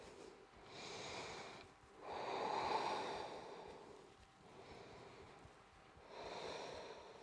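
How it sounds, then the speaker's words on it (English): Slow, deep breaths are drawn in and pushed out through the nose while holding a high lunge in a strength and balance yoga flow, with close inhales and exhales in a soft, steady rhythm. "Take a couple of breaths."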